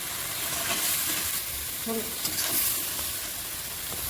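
Spices for a chapila fish curry simmer and sizzle steadily in a pan, a soft continuous bubbling hiss with faint stirring, close and fairly quiet, no talking.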